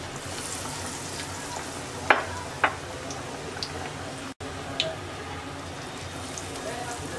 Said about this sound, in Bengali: এবার আমরা বেসনের ব্যাটারে চুবিয়ে ভেজে নেব।